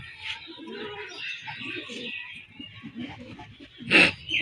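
Giribaz pigeons at a home loft in Rajshahi give soft, low cooing calls in a steady rolling murmur, with a brief louder flutter near the end.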